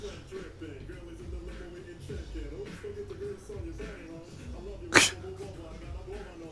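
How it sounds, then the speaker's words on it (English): A single sharp, loud sneeze bursts out near the end, breaking through low chatter and soft speech. "Sneezing."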